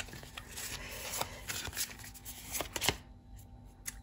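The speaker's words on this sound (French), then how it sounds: "C'est comme si j'avais perdu l'habitude de brasser les cartes." Tarot cards being shuffled by hand, a run of quick papery riffles and soft rubbing slides, close and moderately quiet, with no talking.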